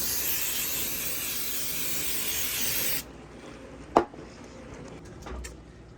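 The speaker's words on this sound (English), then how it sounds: "I'm going to spray my tins with a little Baker's Joy." Baker's Joy baking spray hissing onto muffin tins in a kitchen, one continuous close spray for about three seconds, followed by a quiet clack of the can and faint handling noise.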